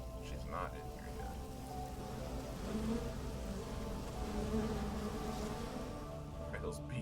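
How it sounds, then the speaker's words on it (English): Bees buzz in Fallout 4, a faint, steady hum beneath low rustling ambience, with a brief higher whine near the start and soft tones drifting through. "Why are those bees so loud?"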